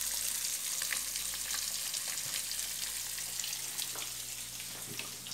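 Eggs frying in butter in a pan, a continuous crackling sizzle with scattered pops and small spatters, fairly close and steady throughout, no voices.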